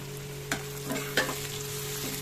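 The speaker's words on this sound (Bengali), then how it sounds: "টমেটোটা দিয়ে ভালো করে ভাজা করে নেব" Tomatoes frying in a pan for chilli cauliflower, with a steady sizzle and occasional stirring scrapes and clinks, close and moderately loud, no talking.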